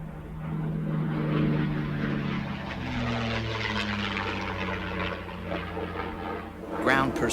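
A P-51 Mustang fighter flies over an airport, its propeller engine droning steadily and loudly with shifting pitch throughout, swelling slightly near the end.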